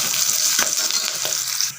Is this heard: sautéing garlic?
yes